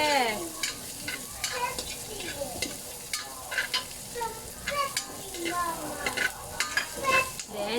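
Onions fry in a pan for Pancit Cabagan, giving a continuous sizzle while a utensil scrapes and stirs in frequent, irregular strokes, close up and loud.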